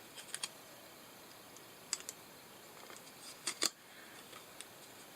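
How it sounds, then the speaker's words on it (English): Scotch tape being pulled and pressed down on the back of a paper craft gnome's nose, heard as a few sparse, sharp little clicks and crinkles against a quiet room, with no voices. "take a little bit of Scotch tape and tape that from the back side"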